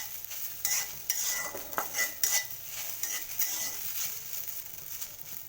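Okra frying in a pan for about ten minutes while being stirred, giving a steady soft sizzle broken by scraping and clinking utensil strokes against the pan, close by and with no talking.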